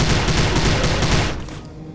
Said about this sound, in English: the primary fire is maybe a tiny bit weaker than you'd expect, but that's only because the gun sounds so good